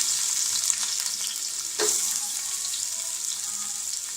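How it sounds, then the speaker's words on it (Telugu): Onions and chilies frying in oil for a fish curry produce a close, continuous hissing sizzle, with one brief clatter of stirring near the middle and no voices. "కొంచెం ఆనియన్స్ ఇవి కూడా బాగా ఫ్రై అయిపోవాలి"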